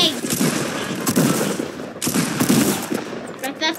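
Rapid bursts of automatic gunfire crackle in the Fortnite video game, several loud volleys separated by short gaps, with a voice shouting over them.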